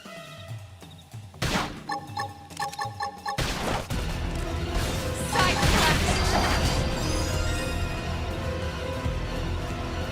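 A few sharp shots crack out in the video game Xenoblade Chronicles X: Definitive Edition, then a loud burst of rapid gunfire and explosive crashes fills the rest, dense and close with clattering debris.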